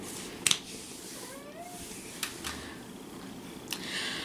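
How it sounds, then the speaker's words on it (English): An indoor cat meows softly in a quiet room, with a brief faint call and a few small clicks and taps around it, no talking. "My cat is talking to me."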